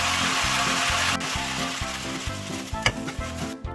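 Vegetables and ginger hitting a hot oiled pan for jjajangmyeon, an onion-based stir-fry, give a loud continuous sizzle, with the clatter of a utensil stirring and scraping through it.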